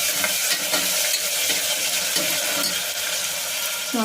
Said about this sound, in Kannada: ಸೊ ಅದನ್ನ ಒಂದು ರೌಂಡ್ ಫ್ರೈಯನ್ನು ಮಾಡಿ